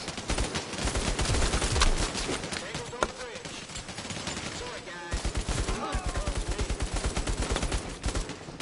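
Video game firefight on a bridge against hostiles, with steady rapid gunfire bursts throughout and one sharp louder shot, mid-distance, under game sounds.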